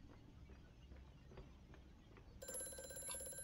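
A telephone starts ringing partway through in the horror game Amnesia: A Machine for Pigs, a bright electronic ring that cuts in over a dark, low ambient drone and footsteps, moderately loud and without speech.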